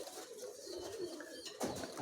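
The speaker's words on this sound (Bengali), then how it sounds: "দেখার মতন কবুতর" Pigeons coo softly in a pen, low throaty calls repeating under steady background noise.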